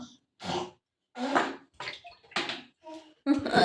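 Bursts of water splashing come one after another in an uneven rhythm, close and fairly loud, separated by short quiet gaps.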